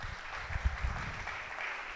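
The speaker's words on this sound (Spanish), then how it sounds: "un aplauso más fuerte para el maestro Sergio" An audience applauds at a music interpretation symposium, a short burst of clapping that swells and then settles into a soft, diffuse patter.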